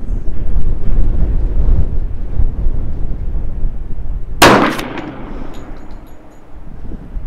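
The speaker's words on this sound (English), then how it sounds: "I can definitely feel the wind now" Steady, loud wind buffets the microphone at an outdoor 100-yard rifle range in Ruidoso, with a single sharp crack cutting through midway before the rushing noise settles.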